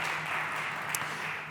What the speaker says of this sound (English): Please, big applause for Irene Hernández from Gataca, CEO and co-founder.